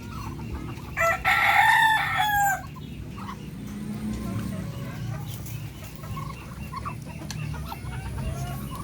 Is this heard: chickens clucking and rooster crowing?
yes